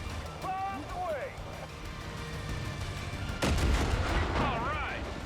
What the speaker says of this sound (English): I'm gonna drop a bomb on these guys.